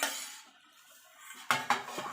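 Metal lid set onto a pot of papaya curry, a quiet lull and then two quick clinks of metal on metal close by, followed by a faint rattle.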